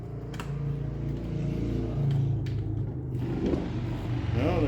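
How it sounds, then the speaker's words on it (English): A motorcycle rolls past outdoors, giving a steady low engine rumble with droning harmonics that swells and shifts slightly toward the end, at moderate distance with no talk. "there goes a bike"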